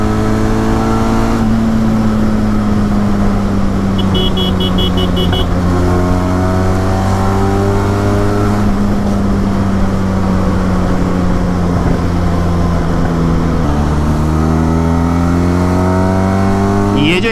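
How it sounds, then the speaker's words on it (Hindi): A Triumph Tiger 800 motorcycle engine revs loudly and close through its exhaust, rising and falling in pitch several times over a steady idle, with faint talk in the background. "ये जो एग्जॉस्ट साउंड है ना यार"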